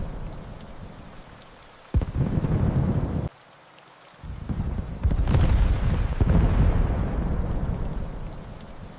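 Heavy rain pours steadily while thunder cracks and rumbles loudly in an animated horror story, broken by a brief near-silent gap before the storm surges back with a long rolling peal.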